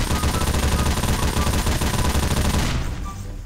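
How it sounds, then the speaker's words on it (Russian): Rapid, dense volley of admin pistol gunfire in the Garry's Mod video game, continuous loud shots filling the moment before trailing off near the end. "Серега, а если я возьму админский пистолет?"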